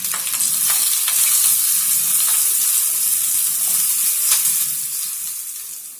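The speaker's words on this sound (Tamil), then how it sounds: "லைட்டாக வதங்கி வெங்காயத்தையும் போட்டுக்கலாம்" Onions, curry leaves and green chillies sautéing in a pan, a close, bright sizzle with a few stirring clicks, fading slightly at the end.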